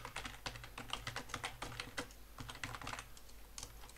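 Close, fast typing on a computer keyboard, with a steady stream of crisp individual keystrokes and brief uneven pauses, quiet and alone with no voices over it.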